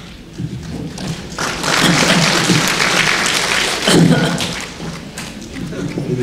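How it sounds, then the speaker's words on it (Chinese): Sustained applause from an audience at a question-and-answer lecture at the Chinese University of Hong Kong, a dense wash of clapping that swells and holds throughout, with a few heavier thumps and some voices mixed in. "你们一直鼓掌，这个回去的时候手都会痛啊。"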